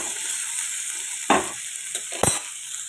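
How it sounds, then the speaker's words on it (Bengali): Bitter gourd frying in a home kitchen pan, a steady hiss of oil with a few louder crackling bursts from stirring, close up with no voices. "করলাটা ভেজে নিয়ে তারপরে শাকটা দেবো"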